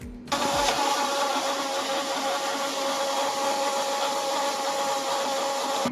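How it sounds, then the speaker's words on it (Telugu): A blender starts abruptly and runs with a steady, loud, whirring roar as it purées apple into a smooth diet drink with the lid on, continuing without pause. "మూత పెట్టి బాగా మెత్తగా స్మూత్గా మనం బ్లెండ్ చేసేసుకోవాలి"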